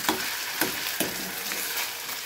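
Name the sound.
potatoes being sautéed in a pan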